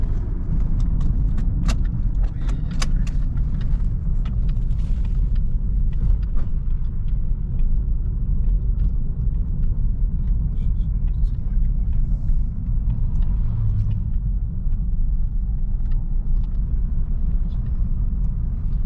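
Honda Shuttle car driving, a steady low road rumble and engine hum from inside the cabin, continuous and fairly loud throughout with no talk.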